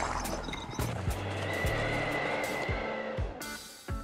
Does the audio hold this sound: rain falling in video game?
no